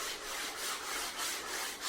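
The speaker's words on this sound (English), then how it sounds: "Still sanding it down." Sanding on a wooden kitchen island built from separate lumber sheets: quiet rhythmic back-and-forth rasping strokes, about four passes in two seconds, alone without talk.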